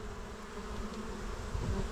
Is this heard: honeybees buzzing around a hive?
yes